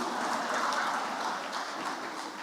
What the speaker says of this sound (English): Please, a round of applause for President Bola Ahmed Tinubu.